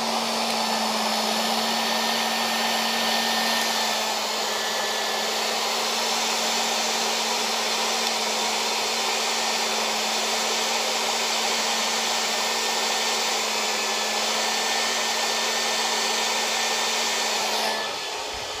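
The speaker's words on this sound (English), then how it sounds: "I have blow dried the one, and it has a little more lift." A hair dryer blows steadily at close range for about eighteen seconds while eyelashes are blow-dried after 3D mascara application, a loud continuous whir with a fixed motor hum that cuts off near the end.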